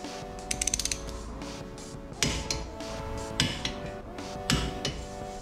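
A hand ratchet tightens the wheel hub bolts on a G35/350Z to torque, giving a quick burst of rapid clicks followed by several separate louder metallic clacks and ratcheting strokes, close up with no talk.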